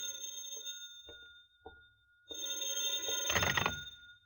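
Telephone bell ringing as a radio drama sound effect in a 1951 mystery broadcast, with a sustained ringing tone that swells into a louder, fuller ring near the end.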